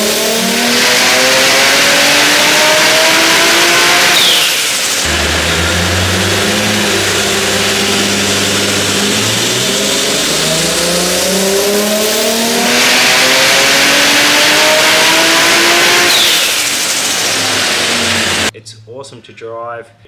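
A tuned Nissan Skyline R32 GT-R with a 3.2-litre billet block engine revs hard and repeatedly, climbing through the gears with loud rising whines, then cuts off abruptly near the end.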